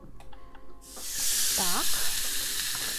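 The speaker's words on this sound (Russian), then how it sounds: "Гриль нагрелся, пропищал, и я выкладываю наши стейки." Steaks laid on a heated Braun MultiGrill 9 electric grill, bursting into a loud, sustained, close hiss and sizzle after a few quiet taps, with a short voice-like sound partway through.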